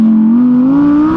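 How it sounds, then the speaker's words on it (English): Audi R8 rear-wheel-drive V10 engine holding a smooth rising rev, a loud sustained tonal drone climbing steadily in pitch, heard alone without talk. "Oh, the engine, it's so sweet."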